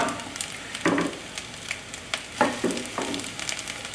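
An egg fries in a pan for a fried-rice dish, giving a faint, steady sizzle broken by a few sharp scrapes or taps of a utensil against the pan.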